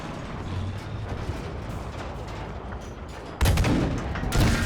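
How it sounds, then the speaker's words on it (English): Field artillery fires in the Battlefield V video game, a rumbling battle bed topped by two loud, sharp booming blasts near the end. "All looking good till the other team spawned in and took control of the field artillery again."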